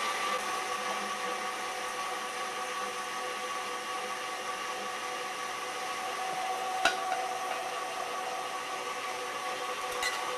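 An electric mixer whisks meringue with sugar added gradually, giving a steady, close whirring drone that holds throughout, with a brief clack midway.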